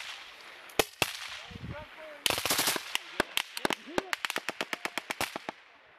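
Rifle gunfire during US Army paratrooper live-fire training, sharp single shots followed by rapid cracking bursts with echoes, some near and some farther off, and faint voices in between.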